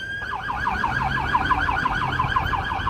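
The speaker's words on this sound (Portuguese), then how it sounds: "A ambulância do capeta." Wailing ambulance siren passing outside, a steady rapid yelp that cycles up and down over and over, fairly loud and close, with a low traffic rumble beneath and no voices.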